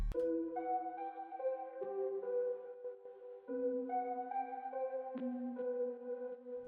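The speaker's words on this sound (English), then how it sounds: "the final thing I got on Effectrix is like a phaser phase, stutter phase, and a reverse phase" Dark synth melody processed with Effectrix phaser, stutter and reverse effects, sustained tones stepping between notes with a sweeping, swirling colour and a reversed swell near the end, steady and moderately loud.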